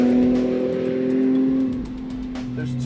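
A supercharged STILLEN Nissan 370Z tuned to 500 horsepower accelerates in third gear, its engine a loud, steady tonal drone that dips in pitch partway through before pulling on.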